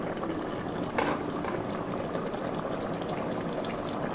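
Thin rohu fish curry with cauliflower and potato simmering in a covered pot, a continuous dense bubbling hiss with one brief louder burble early on, no voices.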